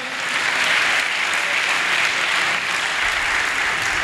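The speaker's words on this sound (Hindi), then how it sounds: "आए रूहुल कुद्स की कुव्वत के लिए जोरदार तालियां बजाएं।" A church congregation at a Pentecost sermon breaks into loud, sustained applause, a thick, even roar of many hands clapping that stays steady from start to finish.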